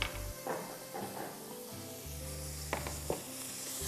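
Ginger and garlic sauté in a pan with a steady close sizzle, broken by a few scraping stirs and clunks of the utensil, with no voices.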